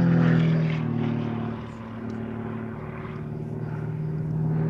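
An aerobatic propeller aeroplane with a nose-mounted engine and steel-tube fuselage performs at the Shuttleworth race day air show, its engine droning steadily with a wavering pitch as it manoeuvres overhead at moderate distance.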